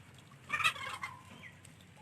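Broiler chickens, 32 days old, drink water on a poultry farm, giving a brief burst of soft warbling clucks over a quiet, low background hum.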